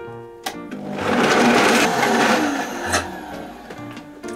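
A Vitamix high-speed blender blending pumpkin for soup roars loudly for a few seconds, whirring steadily after a brief start-up click, then winds down.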